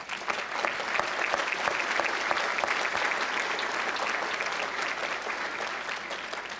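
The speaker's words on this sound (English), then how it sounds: "I think they deserve a round of applause." Steady audience applause from a large crowd at a law school commencement ceremony, dense clapping sustained throughout at a moderate distance.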